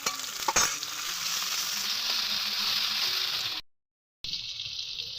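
Onion, green chili, tomato and garlic frying in hot oil make a loud, steady sizzle with brief stirring scrapes, cut off by a short silent gap before the sizzle resumes.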